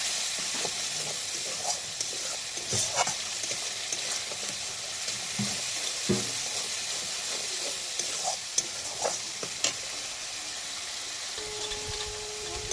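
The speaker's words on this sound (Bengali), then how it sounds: "এটাকে ভালো করে কষিয়ে নেব" Spiced curry with turmeric sautéing in a pan, a continuous close frying sizzle broken by occasional stirring scrapes and clinks, no speech.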